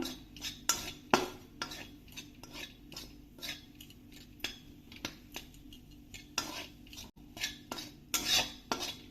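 Khoa being stirred and roasted in a kadhai over low to medium flame, with repeated light scraping and clinking of a spoon against the pan throughout, close and fairly soft.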